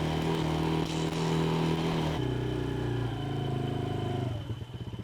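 Small youth ATV engine running as a child rides, a close, loud, buzzing drone whose pitch shifts and drops, then tapers with a rough sputter at the end.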